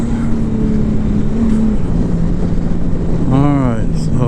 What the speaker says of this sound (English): So now I'm down to first gear and going up a hill.